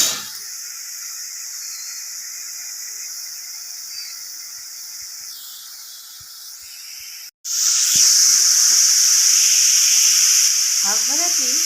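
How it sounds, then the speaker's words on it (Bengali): Red amaranth greens cook in a pan with a steady, close steam hiss and sizzle that cuts out briefly, then returns louder and brighter. "এবার শাকটা প্রায় সিদ্ধ আমার হয়েই এসছে, আর একটু রেখে নামিয়ে নেব।"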